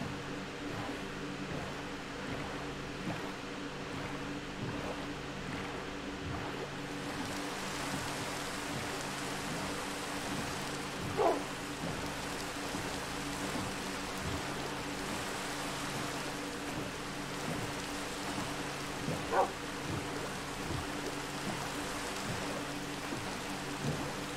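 Steady, faint rain hisses continuously with a soft, even wash in the Minecraft video game, with no talk over it and only a couple of brief, slightly louder ticks.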